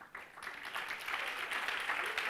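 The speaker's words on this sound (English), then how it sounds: "Now, what are you clapping?" Lecture audience clapping, a building wave of many hands that stays dense and steady, with a faint murmur of voices underneath.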